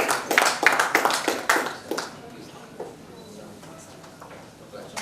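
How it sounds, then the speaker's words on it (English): A ceremony audience at an HR excellence awards event claps loudly for a few seconds, then the applause fades quickly into quieter scattered sounds. "let's have a big round of applause"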